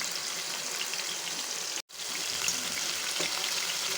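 Prawns frying in oil in a pan for a Kerala-style prawn roast, a steady bright sizzle that cuts out for a brief instant midway, then resumes at the same level.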